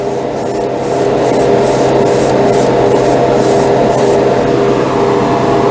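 A heavy coat of Stynelrez acrylic primer is sprayed, a continuous loud airy hiss broken by short rhythmic pulses near the start, steady and close with no talking.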